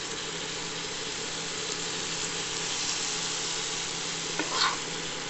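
Brinjal stirring in a hot pan with salt and turmeric gives a steady, close sizzle and scrape that runs throughout at an even level, with a brief clatter near the end.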